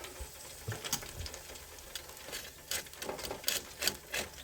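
Tempura chicken sizzles and crackles in hot frying oil as the fryer basket is lifted after the first fry, with a steady, moderately quiet bed of fizzing and sharper pops scattered throughout.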